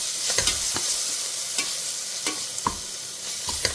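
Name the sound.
sautéing ginger-garlic paste, onion and green chilli in a pan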